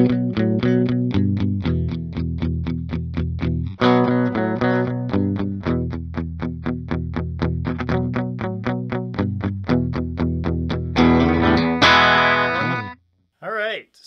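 A Reverend Billy Corgan Signature Z-One electric guitar is played plugged into an amp with distortion, loud strummed chords in a driving rhythm with brief changes, ending in a ringing flourish and a short final hit.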